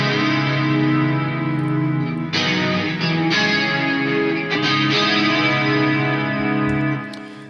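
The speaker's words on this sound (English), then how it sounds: "I really wanted to push the whole 90s clean type sound with, a lot of chorus" A Charvel MJ DK24 electric guitar rings out lush chords with a shimmering 90s-style chorus effect, played alone with steady strums and sustained notes.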